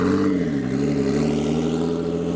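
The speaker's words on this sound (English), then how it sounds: "the V6 Porsche Boxster is now departing" A V6 Porsche Boxster pulls away from a car show, its engine note rising steadily in a continuous mid-pitched drone with harmonic revs, fairly close and loud throughout, with no talking.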